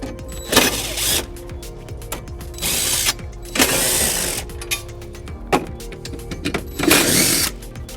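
Ratchet clicks as 13 mm screws come out of the battery housing on a 2007 Volvo XC90. Several short bursts of rapid mechanical ratcheting are separated by brief pauses, close and fairly loud.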